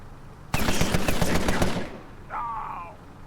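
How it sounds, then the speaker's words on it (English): Rapid bursts of gunfire from the turn-based video game Empire of Sin ring out loud and close for about a second, then fade, followed by a short whistling game tone. "No, he's actually firing."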